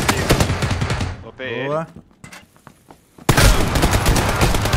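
Rapid bursts of automatic gunfire in PUBG crackle loudly, first a dense volley, then a lull with scattered shots and voices, then another heavy stretch of firing; players talk in between.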